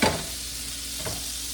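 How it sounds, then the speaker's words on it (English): Close crackling sizzle of an egg frying in a pan, steady and soft, with a couple of brief scraping stirs. "You can probably hear it sizzling"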